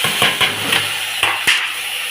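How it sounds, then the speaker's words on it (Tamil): Onions sautéing in a pan, a loud close hiss of frying with several sharp scraping clicks from stirring spread across it, no talking. "வெங்காயம் வதக்குறோம் பாருங்கள்."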